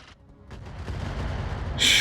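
Mech weapons fire at a Pirate Striker in the Roguetech mod of BattleTech, a rising rumble of heavy shots and booms that swells over two seconds and ends in a loud, bright blast.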